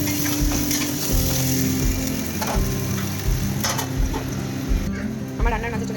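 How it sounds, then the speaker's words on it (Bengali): Potatoes frying in a pan on a gas stove, a steady sizzle under household clatter and a low mechanical hum, with a voice briefly heard near the end. "এদিকে আমি আলু ভাজছিলাম"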